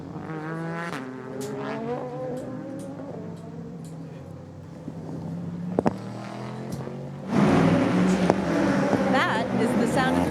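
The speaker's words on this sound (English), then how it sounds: "That is the sound of the 63 Corvette going back out on track." The number 63 Corvette race car pulls out of the pit lane at Le Mans after a driver change and refuelling, its engine revving up and rising sharply in the latter half, with talk over the earlier part.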